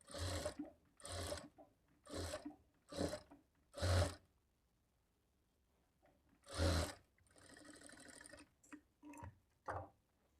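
A sewing machine stitches blouse cloth in short repeated bursts, each a rapid mechanical whirr lasting under a second, separated by pauses, with one longer softer run near the end; close and alone, no talk.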